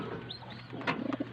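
A racing pigeon coos softly nearby in a short, low burbling phrase, with a faint chirp-like sweep early on and no speech.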